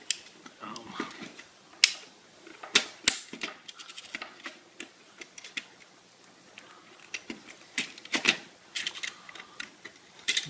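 Small metallic clicks and rattles from a spring being fitted into a vending machine coin mechanism, scattered sharp ticks at close range with quiet pauses between them.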